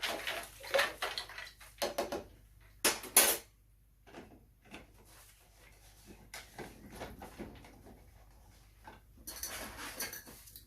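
Iced tea stirred in a glass with ice, cubes clinking and rattling in bursts of knocks and scrapes, loudest at the start and end with quieter clatter in between, close by and with no talking.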